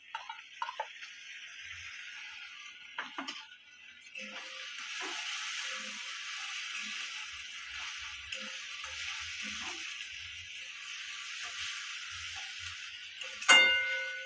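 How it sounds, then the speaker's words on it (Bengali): Spice paste frying in a pan for a soybean chunks curry, a steady soft sizzle with scattered ticks and stirring scrapes, and a brief louder hiss near the end. "মশলাটাকে ভালো করে কষিয়ে নেব।"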